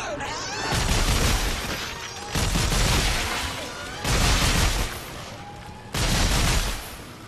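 Four loud, sustained electric bursts from a weapon firing electrocuted probes in Dead Space 3, each crackling blast lasting about a second and a half with brief gaps between them, and no talking.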